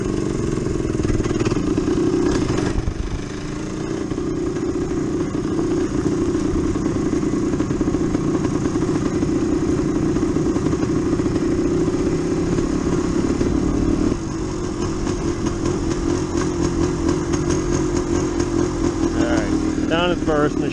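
A Yamaha DT360 motorcycle runs loud and close on a road, its engine droning steadily with pitch shifts and brief dips as the rider changes through the gears.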